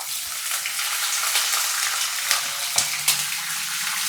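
Green chillies frying in hot oil: a loud, steady, close sizzle with continuous crackle and a few sharper pops, with no voices.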